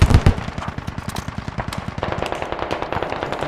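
An MG3 machine gun in the video game Squad fires in a loud, heavy opening blast, then keeps up fast, regular, rattling shots nearby through to the end.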